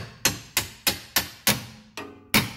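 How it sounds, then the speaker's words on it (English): Hammer tapping out a rear lower control arm bolt on a 2013 Nissan Altima: six close, evenly spaced metallic knocks, each ringing briefly before fading. "Just tap it out nice and light."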